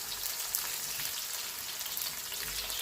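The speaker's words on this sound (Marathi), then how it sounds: "आपण हा कांदा ह्याच्यात घातला, तर हा कांदा आपण थोडासा भाजू देऊया" Onion frying with cumin seeds in a wide, shallow pan, giving a steady, close crackling sizzle throughout with no voices.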